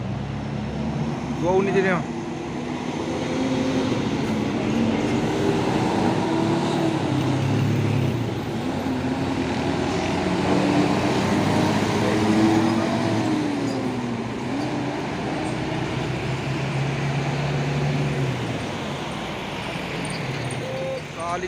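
Two Isuzu Giga trailer trucks labour up the Bukit Kodok hill climb, their heavy engines droning steadily throughout with rising and falling pitch, while someone talks over the traffic noise.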